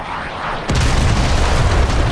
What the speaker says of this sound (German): man sieht kein Flugzeug, es explodiert einfach